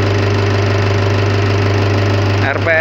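Isuzu Panther diesel engine idling steadily, a loud, close, even low rumble with a constant rhythmic knock that holds throughout, then briefly shifts near the end.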